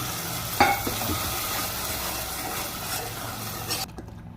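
A ground paste of chili, tomato and onion sizzling in hot tempering oil for a greens curry, with a loud utensil clank early, steady frying hiss and stirring, then sudden quiet near the end.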